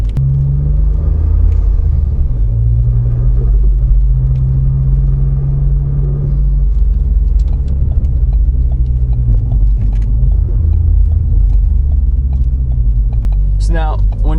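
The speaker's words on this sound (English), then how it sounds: "as you can see, the car is smoothly rolling" A Ford Focus ST with manual transmission rolls steadily in gear, its engine a loud, constant low rumble with a steady droning hum and some road noise close inside the cabin.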